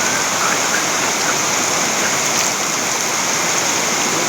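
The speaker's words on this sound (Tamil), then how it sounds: "இந்த ஃபால்ஸ் மேகமலை டாப்லேருந்து கீழே வருது." Steady, loud rushing of a waterfall tumbling down from the top of Meghamalai, a constant broadband roar close by with no pauses.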